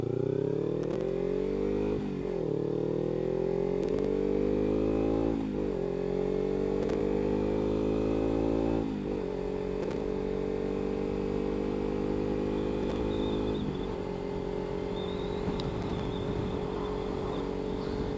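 Kawasaki Ninja 300 motorcycle engine heard while riding: loud, steady engine drone with repeated rising revs through gear changes, each shift marked by a brief dip before the pitch climbs again, with no talk.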